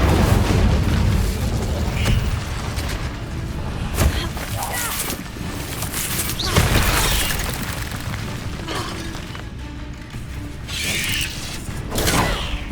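Incendio fire spells burst in Hogwarts Legacy, loud booming blasts at intervals over rumbling, creaking game sounds, with a voice talking through the action.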